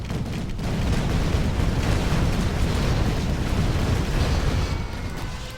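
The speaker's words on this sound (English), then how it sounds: "And that's a smart bomb." Smart bomb detonation in the Rise of the Reds real-time strategy game, a loud, sustained explosive rumble with crackling bursts that holds steady for several seconds.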